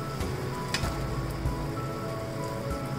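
Two big tablespoons of peanut butter stirred into Thai yellow curry paste in a hot pan give a steady, close crackling sizzle with soft scraping, and no voices.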